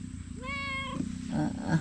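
A single drawn-out cat meow, close and clear, followed by a shorter softer mew, with no talking.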